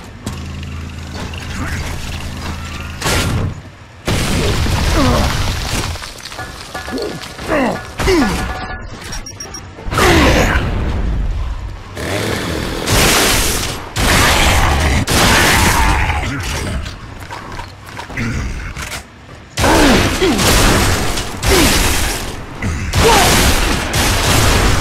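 Gunfire in the video game Gears of War: loud bursts of shots and crashing impacts come in repeated clusters with brief gaps throughout, busy and close, with occasional shouting mixed in.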